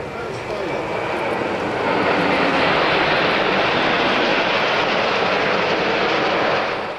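PZL TS-11 Iskra jet trainers flying past over water at an airshow in Malta, a steady loud roaring jet rumble that swells midway and holds, with a voice talking over it.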